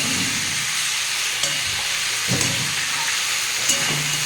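A steady, loud sizzle of potatoes frying in a pan until browned, with a few soft scrapes and knocks as they are stirred.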